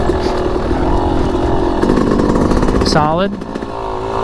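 Yamaha YZ250X two-stroke dirt bike engine revving hard and close, a buzzing, crackling motor that rises in pitch before settling to a lower idle-like burble, with a brief spoken word over it.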